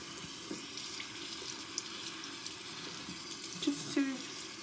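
A tap runs water into a sink at low volume, making a steady soft splashing with a few small clinks near the end.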